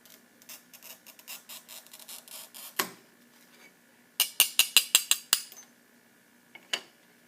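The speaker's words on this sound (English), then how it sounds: "now I'm going to cut a shallow curve." A glass cutter scoring a shallow curve in a sheet of glass: soft, quick ticking, then one sharp click, a pause, a burst of crisp, close clicks, and two final isolated ticks, with no voices.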